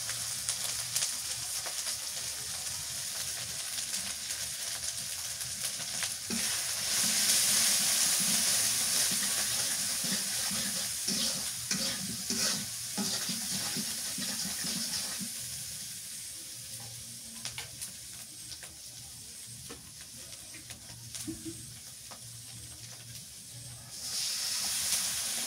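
Chili paste and ground turmeric fry in a pan as spices for a thin fish curry, giving a steady broad sizzle and hiss that runs the whole time with shifting intensity and no speech.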